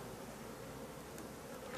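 Honeybees buzzing steadily in an opened beehive beside frames of comb, a faint, even, continuous hum with no breaks and no speech.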